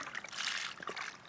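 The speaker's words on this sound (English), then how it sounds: "add water just to come to the top of the meat" Water poured into a pot over corned beef meat, a short splashing trickle with uneven bursts of spatter, close and moderately soft.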